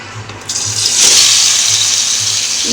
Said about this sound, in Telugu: ఈ ఆయిల్లో టమాటా వేసుకోవాలి.